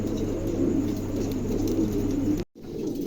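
White king pigeons at a wholesale pigeon market, soft continuous cooing from several birds nearby over a steady low hum, ending in a brief cut to silence.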